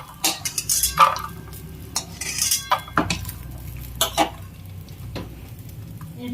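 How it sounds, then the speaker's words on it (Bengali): Fried peanuts are scooped out of hot oil with a metal spoon. A soft sizzle runs underneath as the spoon clinks and scrapes sharply against the pan several times. "বাদামগুলো এবার আমি তুলে নেব।"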